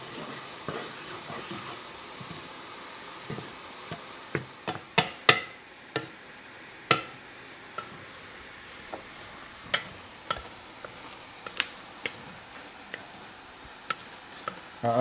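A roux with onions cooks in a pan over medium-low heat: a faint, steady sizzle runs underneath while a utensil scrapes and taps against the pan in irregular clicks, several louder strikes clustered near the start, with no talking.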